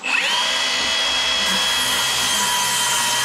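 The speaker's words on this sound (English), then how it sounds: "if you've got access to just a little portable skill saw or circular saws" Small portable circular saw cutting wood, a continuous high-pitched whine that spins up quickly and then runs steadily and loudly throughout, with no talk.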